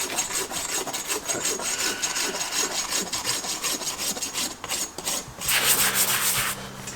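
A sanding block rubs repeatedly over a nailed horseshoe clench on a hoof, giving quick rhythmic scraping strokes, close and fairly loud, with a brief pause before a brighter burst near the end.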